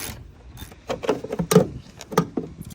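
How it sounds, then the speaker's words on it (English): Bolts, 11mm, being worked loose from the taillights of an old sheriff's car, a close series of irregular metallic clicks, ratcheting ticks and clunks with short pauses between. "First, we got to remove these 11mm bolts in the back."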